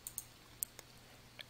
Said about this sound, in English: Then click the OK button.